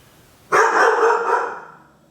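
A single loud dog bark bursts out nearby in a home kitchen, then trails off, with quiet room tone before it.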